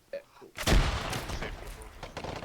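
Frag grenades go off in a video game: a sharp, loud blast followed by a rolling, crackling rumble that slowly fades, with faint voices before it.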